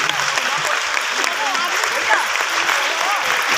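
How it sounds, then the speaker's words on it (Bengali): A crowd at a live event gives loud, sustained applause for a woman's mother, dense clapping from many hands, close and continuous, with voices mixed in. "প্লিজ আমার মায়ের জন্য একটা জোরে হাততালি দিন।"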